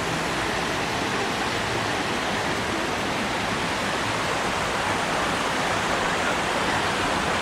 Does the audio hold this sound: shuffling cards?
no